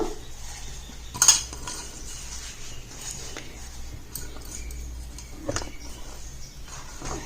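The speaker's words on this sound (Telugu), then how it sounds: "ఇలా అన్ని మిక్సీలో వేసేస్తాను" Henna, neem and curry leaves going into a mixer jar, with one sharp clink of the jar early on and a few softer clatters and rustles later over a quiet room background.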